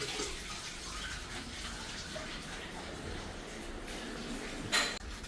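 Water runs steadily from a kitchen tap during dishwashing, a continuous hiss interrupted near the end by a brief clatter and splash.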